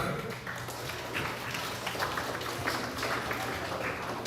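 Applause from an audience at a grades 4–6 school awards ceremony honoring honor roll students, a steady dense wash of clapping filling the whole stretch at moderate loudness.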